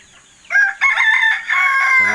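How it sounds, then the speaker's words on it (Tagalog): Caged broiler chickens, more than 500 birds, clucking and calling loudly and close, their voices overlapping into a continuous squawking chorus. "Yan yung broiler cage namin. Naglalaman niya ng 500 plus na broiler."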